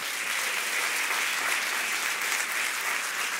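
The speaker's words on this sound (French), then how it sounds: "si on peut les applaudir très très très fort" A church congregation applauds volunteers, a full, even burst of many people clapping hard that stays constant and dense from start to finish.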